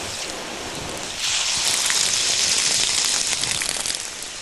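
A garden watering wand sprays water in a steady rain-like shower, starting abruptly after a second of quiet and then holding a loud, even hiss to the end.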